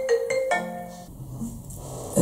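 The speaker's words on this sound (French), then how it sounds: "J'ai dû répondre au téléphone" A phone ringtone plays close by: a bright electronic melody of quick repeated tones, several short notes then a held one, stopping after about a second as the room goes quiet.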